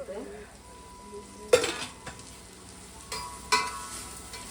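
Vegetables fry in plenty of hot oil in a pan, a low sizzle broken by a few sharp stirring clatters of a utensil against the pan, close and fairly quiet.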